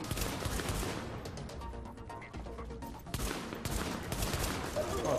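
Dense assault rifle gunfire in The Division, a shooter video game: rapid, overlapping bursts of shots that keep up steadily for several seconds, loud and close, with a brief lull midway before the firing picks up again.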